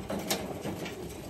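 Male racing pigeon, a blue bar white light Aeroflow entry, cooing close up in low soft repeated murmurs over a steady background hum.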